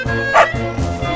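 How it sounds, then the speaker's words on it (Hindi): A dog gives a few quick, close yipping barks, short and sharp, against a steady hum of background sound. "ए कुत्ता अन्ना जी रुको रुको"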